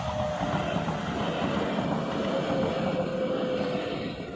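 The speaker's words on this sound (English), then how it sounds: "And there comes the train, a local train with 4 cabins." A four-car local train passes a Japanese level crossing on a main road, heard as a steady, loud rumble of wheels on rails sustained throughout, with a faint tonal whine riding on top.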